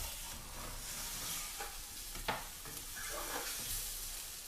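Six beaten eggs cooking as an omelette in a pan, giving a soft continuous sizzle with a few faint scrapes and one brief clack, fairly quiet and close.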